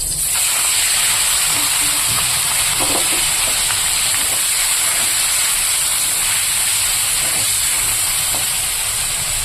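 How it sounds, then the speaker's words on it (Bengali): Prawns frying in hot oil in a home kitchen give a loud, continuous hissing sizzle that fills the whole stretch, with no talking. "তেল গরম হয়ে গেছে এবার আমি চিংড়ি মাছগুলোকে দিয়ে দেব"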